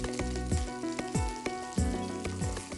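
Asafoetida dropped into hot oil for a tempering sizzles in repeated short bursts, crackling loudly and close with a steady hiss between spurts, while background music plays softly underneath.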